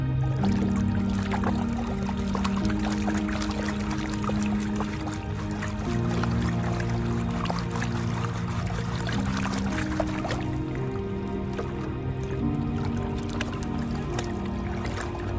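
Stream water flows and trickles steadily while gold panning in a creek, a continuous close babble with splashy gurgles and no voices over it.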